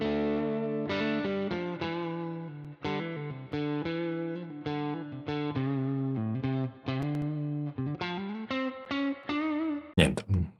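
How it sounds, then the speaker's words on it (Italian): Electric guitar through a UAD Paradise amp simulator with the power amp pushed into overdrive, playing a run of distorted, sustained single notes and chords at moderate level, ending in a sharp attack. "più che altro aumenta la distorsione del finale dell'amplificatore"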